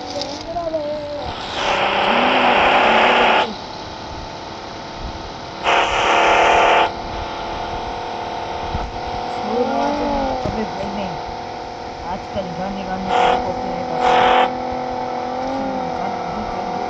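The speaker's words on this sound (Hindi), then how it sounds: "भाई ये गाड़ी बहुत तेज चलती है" A car in the BGMI mobile battle royale game revs its engine in several short bursts of whining acceleration while driving, with steady engine drone beneath and a player talking over it.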